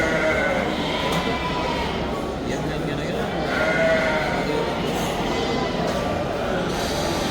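At a livestock market in Tashkent region, one-year-old sheep bleat repeatedly, some near and some farther off, over a dense crowd hubbub with people talking throughout.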